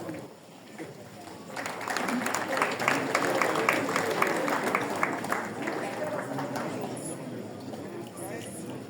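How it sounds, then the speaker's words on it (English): An audience of couples at a church talk gives a round of applause, a dense patter of clapping that builds after a quiet start and holds steady, with a faint voice underneath. "We ask the honorable couples that are here to give us a round of applause"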